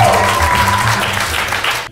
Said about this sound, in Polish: wielkie brawa dla Gawła Fligi!